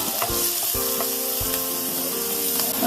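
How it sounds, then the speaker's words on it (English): Onions frying in olive oil give a steady, loud sizzle with a few soft stirring knocks in the pan, and no one speaks over it. "And my onions going in the olive oil."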